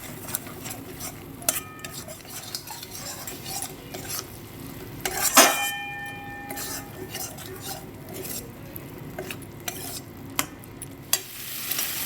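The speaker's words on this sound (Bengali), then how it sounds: "একটু জল দিয়ে আবারও মশলাটা ভালো করে 5 থেকে 10 মিনিটের মতন কষে নেব" A spoon stirs and scrapes spice paste frying in a pan for a vegetarian soybean and potato curry, with steady sizzling, close metallic clinks and scraping strokes.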